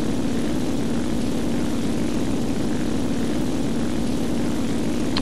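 WWII-era propeller aircraft engines in a flight combat video game, a steady, dense droning roar that holds constant throughout with no pauses or voices.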